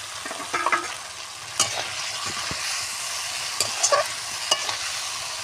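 Eggs are turned through spices in a frying pan for an egg curry, giving a continuous close sizzle broken by sharp spatula scrapes and taps against the pan.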